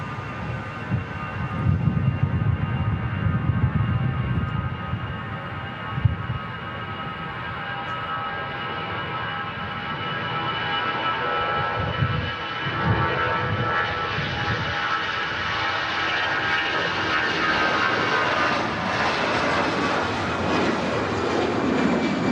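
An Air France jet airliner takes off from runway 23 right at Manchester Airport, a loud sustained roar with a rising whine that holds steady, heard from nearby beside the runway on a windy day.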